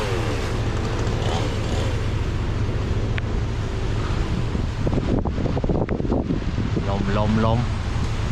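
Strong wind buffets a microphone outdoors during wood cutting, a constant loud roar with gusty rumble, and a few sharp knocks and scraps of voices poking through near the end.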